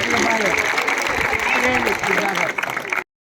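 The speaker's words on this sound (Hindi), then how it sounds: "can I have a big round of applause for these security?" Audience applause for security staff at a Republic Day celebration in a residential society, a dense, steady wash of clapping lasting about three seconds with voices mixed in, then cutting off abruptly.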